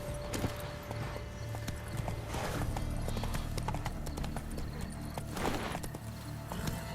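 Horse hooves clip-clop at a steady gallop in The Witcher 3: Blood and Wine, a continuous rhythmic beat of hoofbeats close by with a brief whinny over an ambient game soundscape.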